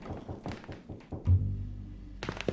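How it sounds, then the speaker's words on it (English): Knocking inside the horror video game Ad Infinitum: a handful of dull, close knocks and thuds at moderate volume, with a deep rumbling resonance swelling in the middle of the stretch. "Who's knocking?"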